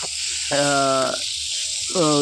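Ginger and green chili fry with masala powder as they are stirred, giving a steady, close sizzling hiss that runs beneath a person talking.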